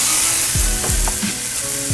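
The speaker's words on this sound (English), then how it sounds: "now I'm gonna sear both sides and then stick it in the oven" Grass-fed beef marinated with parsley, garlic, onions and Haitian spices sears in sunflower oil in a pot, a steady close sizzle with a few scraping, stirring knocks on top.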